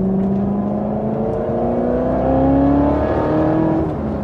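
Loud, close supercharger whine rising in pitch from a Corvette Z06 driven in sport mode, layered over a throaty engine drone as the car accelerates, with no talking.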